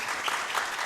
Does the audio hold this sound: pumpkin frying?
no